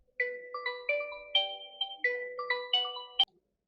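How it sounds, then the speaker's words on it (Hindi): A mobile phone ringtone rings out clearly in a quiet room: a bright repeating melody of short electronic notes, several phrases in a row, loud and close, ending abruptly. "मेरा फोन आ रहा है।"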